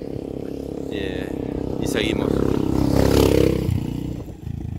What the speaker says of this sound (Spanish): Está pasando una moto ahora